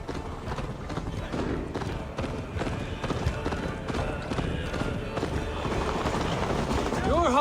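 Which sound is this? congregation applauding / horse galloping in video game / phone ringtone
horse galloping in video game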